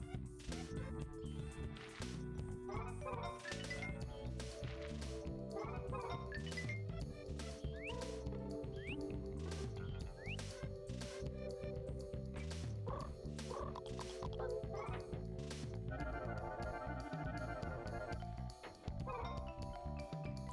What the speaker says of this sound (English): It's a Tamagotchi.